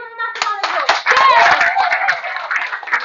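A live audience claps warmly as James King-Nickol, an actor, is called up to the stage, the dense clapping swelling after a brief opening tone and holding steady, with a few voices mixed in.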